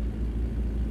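A big rig strains uphill in American Truck Simulator, its engine a steady low rumbling drone held at constant load for a brief moment, close and fairly loud.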